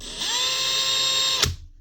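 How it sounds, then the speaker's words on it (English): A Makita DHP486 cordless drill whirs steadily at high speed for over a second, then stops abruptly with a short click as the motor winds down. "should be able to drill"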